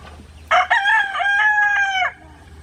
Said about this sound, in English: I'm pretty sure it's a rooster.